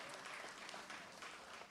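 Audience clapping at an International Women's Day celebration, a faint, distant, steady wash of applause with no voices over it.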